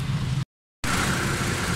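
A car engine idles smoothly after tappet and valve repair, a steady close mid-pitched hum that cuts out briefly and then resumes at the same even level.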